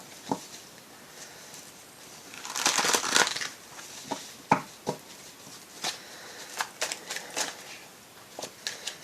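An oracle deck of cards is shuffled up close, giving a dense papery riffle followed by irregular soft slaps and flicks as the cards are handled, with no talking.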